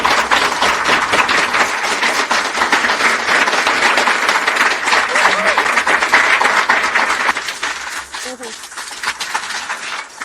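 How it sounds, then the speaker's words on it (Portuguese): Sustained, dense applause fills the White House briefing room, loud and steady for most of the stretch before thinning toward the end, with voices mixed in. "Você recebeu a maior salva de palmas que já ouvi nesta sala."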